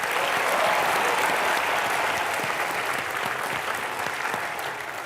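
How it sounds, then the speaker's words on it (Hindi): Loud, dense applause from a studio audience at a comedy show taping, a steady wash of many hands clapping that holds strong for the whole stretch and eases only slightly toward the end. "सौदागर के लिए पहले तो जोरदार तालियां"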